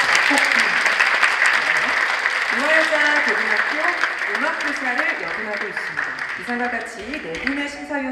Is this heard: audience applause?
yes